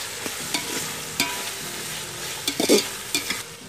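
Green chilies fry in oil in a pan for homemade dum biryani, giving a soft sizzle broken by several short stirring clatters and scrapes.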